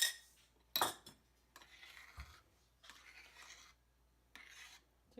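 A utensil stirs beaten egg into a cooled mixture for a Valentine's dessert. The scraping and rubbing strokes come in soft, irregular bursts with a sharp clink of metal against the bowl, close but quiet.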